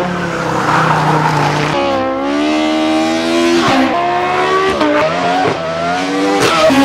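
Race car at a hillclimb race on the Rechberg, its engine loud and close as it corners, with pitch rising and dropping through gear changes and a brief tyre squeal.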